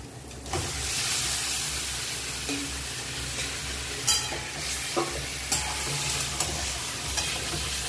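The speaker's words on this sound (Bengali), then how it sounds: "মশলার সঙ্গে মাংসটা কষিয়ে নিয়েছি।" Meat sautéing with spices in oil in a pan, heard as a steady close sizzle broken by occasional scraping strokes of a spatula.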